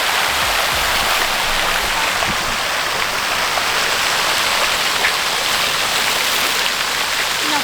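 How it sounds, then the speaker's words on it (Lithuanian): A town fountain in Jurbarkas splashing, steady loud rushing and pattering water with no pauses, heard up close. "Atėjom prie Jurbarko fontano"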